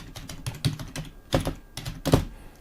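Typing on a Logitech MK295 silent wireless keyboard, clusters of muffled soft key presses in bursts, close and fairly quiet, with no speech.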